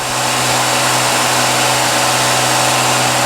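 A Ford 200 inline-six with a Holley Sniper 2300 and Hyperspark, on its first start for cam break-in, runs at raised RPM with a loud, steady, droning roar and a constant hum, close and unbroken, with no voices.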